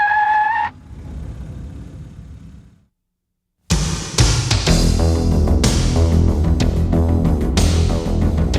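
A car driving an automobile slalom course: after a brief tone and a moment of silence, a loud engine bursts in and roars continuously with sharp surges and tire noise as it works through the course.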